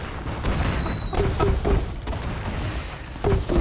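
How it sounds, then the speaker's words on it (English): Fireworks in the game Fallout: New Vegas bursting in a rapid series of booms and crackles, several sharp pops spaced irregularly over steady background noise, fairly loud and close with no talk over them. "All right, I got a whole bunch of fireworks."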